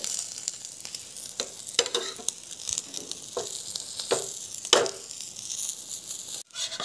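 Egg with onion, chilli and coriander fries in a pan with a continuous close sizzle, broken by several scraping and stirring knocks of a spatula as it is folded and flipped.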